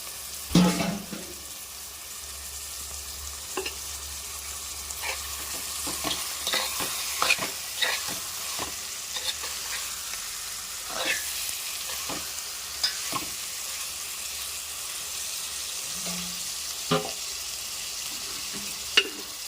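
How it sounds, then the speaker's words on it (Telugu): Onions and bummalo fish fry in a pan for a tamarind fish stew, with a steady sizzle under repeated clicks and scrapes of a spoon stirring, near and moderately loud throughout. "ఆనియన్స్ వేగిన తర్వాత ఈ బొమ్మడాయలు వేసేసుకుందాము."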